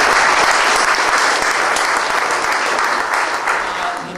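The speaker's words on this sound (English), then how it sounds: "please a round of applause for the" An audience at a Forestry Tasmania soccer launch breaks into loud, dense applause, a steady roar of many hands that fades slightly toward the end, with no voices standing out.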